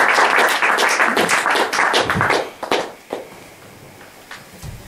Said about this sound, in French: Applaudissements, messieurs, dames.